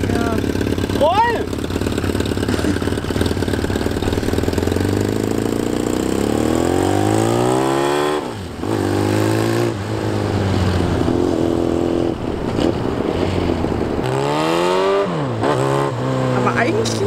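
Cheap motorcycle bought on eBay, its engine running and riding with repeated revs rising and falling as it accelerates and shifts, loud and close, with a person talking over it.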